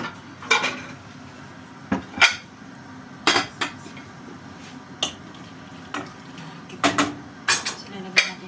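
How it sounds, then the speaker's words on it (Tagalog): Dishes clink and clatter in a home kitchen as plates are set down beside a pot of simmering prawn sauce, a series of sharp, irregular knocks over a quiet background. "Ilagay natin yung pinggan sa taba dito para mainit."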